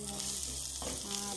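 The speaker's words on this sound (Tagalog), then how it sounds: "Gisa lang muna tayo" Steady, close sizzling of food sautéing in hot oil while cooking pork adobo, continuous and fairly loud with no talking.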